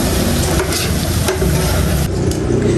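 Banana flower sautés in a hot pan while being stirred, giving a loud, steady sizzle with close scraping stirs and no talk.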